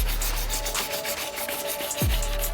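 Coarse 80 grit sandpaper scrubs back and forth across a cloudy plastic car headlight on a Range Rover, a close, steady rasping rub with a rhythmic stroke pattern and a low hum near the end.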